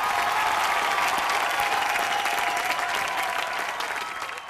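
An audience applauds to welcome singers onto the stage at a televised singing competition, a dense, steady roar of clapping that fades slightly toward the end.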